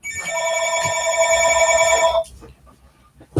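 A telephone rings with an incoming call, a bright electronic multi-tone ring that sounds steadily for about two seconds and then stops, followed by faint rustling and room noise.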